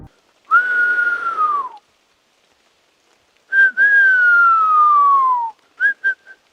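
A person whistles into the dark in the Appalachian woods: two long, loud descending whistles separated by a gap of silence, then a few short chirped notes at the end.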